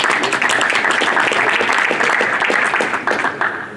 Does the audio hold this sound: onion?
no